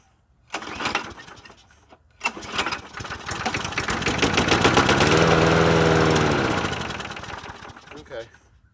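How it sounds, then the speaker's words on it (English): Used lawn mower with a Quantum engine, bought cheaply among four mowers, being pulled and then catching and running; two short pull bursts are followed by a rising, steady engine drone that fades, with talk around it. "Our personal lawnmower is a quantum engine"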